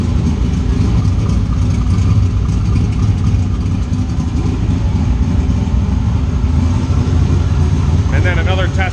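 A car engine runs steadily nearby at a loud, even idle while the throttle is held at a settled point, with a dense low rumble filling the whole stretch and a brief higher tone near the end.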